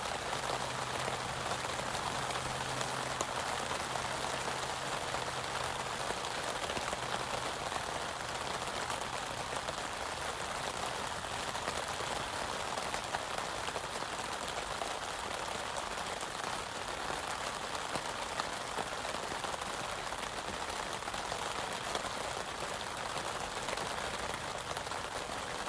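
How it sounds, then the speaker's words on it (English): Steady rain falls at night on a tarp shelter at a camp, an even, dense patter that is constant and moderately loud for the whole stretch, with no voices. "It rained pretty good last night, a little bit of thunder"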